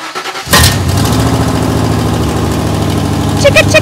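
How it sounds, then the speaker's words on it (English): A family's first car cranks and fires with a sharp burst, then settles into a steady, close idle for a few seconds, ending in a few brief high chirps. "Can you start the car again really quick?"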